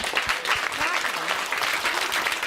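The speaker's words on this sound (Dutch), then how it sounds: "Groot applaus vast." A live studio audience at a talk show applauds a guest, a dense, even wash of clapping from many hands filling the whole stretch at moderate loudness.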